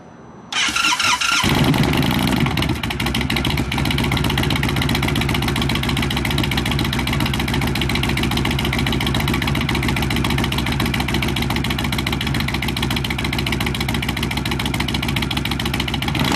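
An Indian Chief motorcycle with a Dean Speed Havok 2-into-1 exhaust and quiet baffle starts, then idles loud and steady close by with a deep, even rumble that holds throughout.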